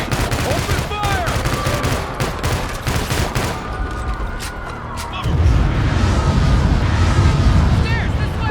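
Sustained automatic gunfire rattles through a Call of Duty: Infinite Warfare street fight, dense bursts of shots under shouting voices, swelling louder and heavier partway through.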